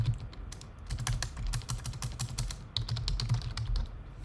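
Rapid typing on a computer keyboard while entering a prompt, with a dense run of close, crisp key clicks and a brief pause midway. No one speaks.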